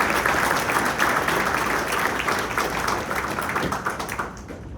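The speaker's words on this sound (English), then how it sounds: "Let's give them all a round of applause." A crowd applauding at a community event saluting the military, dense sustained clapping that holds steady and then fades out at the end.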